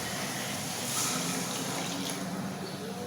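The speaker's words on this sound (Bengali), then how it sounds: "তো এখানে দিয়ে দিব একটু পানি।" A little water poured into spices frying in a pan, producing a steady, loud hissing sizzle that holds for several seconds close by without any clear break.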